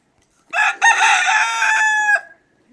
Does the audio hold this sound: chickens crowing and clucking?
yes